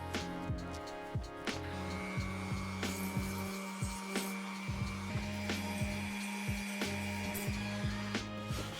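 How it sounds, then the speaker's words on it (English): An electric sander fitted with 100 grit paper works over a 3D-printed mask, giving a steady motor hum broken by repeated short scraping strokes. "sanding with a 100 grit with the electric sander"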